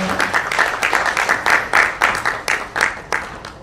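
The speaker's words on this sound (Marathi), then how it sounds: "एकदा जोरदार टाळ्या" Applause greets a writer-director coming onto the stage at a Marathi film trailer launch, a steady run of crowd clapping with rhythmic bursts, fairly loud and close, with no talk over it.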